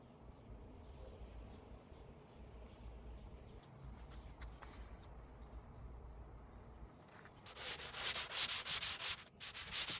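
Faint, steady rubbing of sandpaper on wood for a fireplace mantel cover for several seconds, then a louder, harsher burst of rapid back-and-forth sanding strokes close by.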